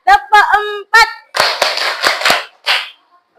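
A primary-school class bursts into a rapid run of loud, close hand claps after a few spoken words, with one last clap trailing at the end.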